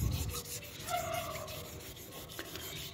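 Scratches on a wheel rim being sanded by hand with 1000-grit sandpaper, a faint close-up rubbing and rasping with back-and-forth strokes, no voices.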